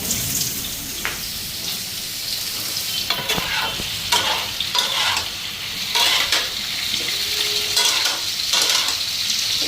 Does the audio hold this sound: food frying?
yes